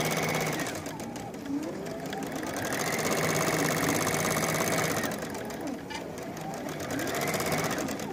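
A Baby Lock or Brother quilting machine stitches on a Dream Quilting Frame, a rapid, even mechanical hum with faint pitch shifts as it moves, steady and close.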